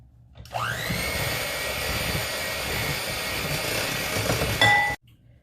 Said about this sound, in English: I decided to just use a hand mixer instead